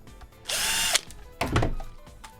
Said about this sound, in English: Using advanced power drill strats.